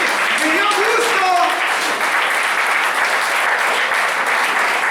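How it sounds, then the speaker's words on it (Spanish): A church congregation claps loudly and continuously at a worship service, a dense even roar of hands with a voice briefly heard over the start. "¡Dale palmas al Señor!"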